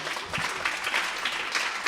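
Brief, steady applause from an audience at a French conference on social and medico-social support, many hands clapping together for the panel speakers at moderate volume.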